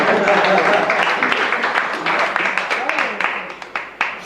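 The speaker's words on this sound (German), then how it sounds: "Man darf ruhig klatschen" A studio audience at a carnival talk show claps loudly and continuously, the applause thinning into separate sharp claps toward the end, with some voices mixed in.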